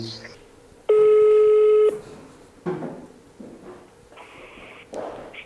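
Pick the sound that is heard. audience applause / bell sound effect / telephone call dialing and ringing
telephone call dialing and ringing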